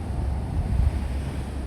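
Sea waves wash onto a local public beach in Hulhumalé, Maldives, a steady low surf rumble mixed with wind buffeting the microphone, continuous for the whole stretch with no voices.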